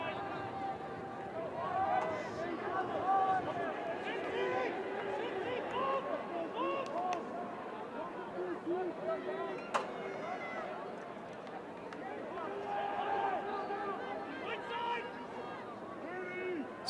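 Colorado Buffaloes players on the bench yelling and cheering during a college lacrosse game against Colorado State, a steady roar of voices carried through the crowd noise at moderate loudness with no clear pauses.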